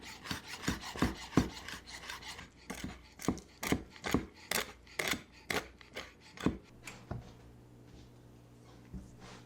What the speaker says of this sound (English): I'm gonna chop up the pistachios and the dates